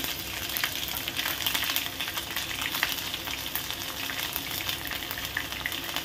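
Mustard seeds, cumin and green chillies fry in hot oil for upma, producing a dense, continuous close sizzle with fine crackling pops throughout and no voices.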